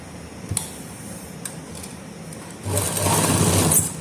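Domestic sewing machine stitching a pocket onto pajama trousers, a steady close mechanical whir running in a short burst near the end after a few light ticks and clicks.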